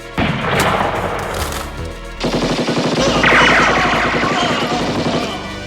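Gunfire in an action film scene at a warehouse, with a burst of shots over a dense soundtrack of music and effects, then rapid repeated blasts building in intensity, loud and close throughout.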